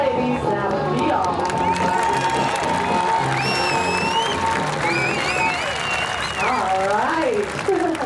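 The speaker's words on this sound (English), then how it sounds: "They're really clapping because they didn't think you guys were going to get back in the center" Clapping and cheering from a square dance audience at a tractor square dance show, steady and fairly loud, with a whoop or two, calls and talk on top.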